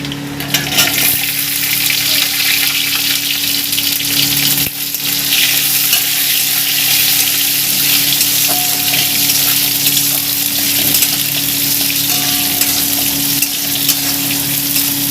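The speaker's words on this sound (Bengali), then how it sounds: "এবার আমি দিয়ে দেবো আমড়াগুলো।" Hog plums frying with spices in a pan for a Bengali chutney: a loud, close, continuous sizzle and crackle with faint stirring, steady throughout and free of speech.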